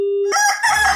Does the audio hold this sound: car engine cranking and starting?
no